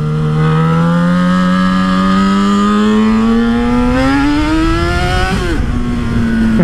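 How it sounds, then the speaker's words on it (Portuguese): A car engine revving through a newly fitted exhaust, a loud, close, sustained note that climbs steadily in pitch, then drops sharply as the throttle lifts and settles. "E pronto, o novo escape da Luísa"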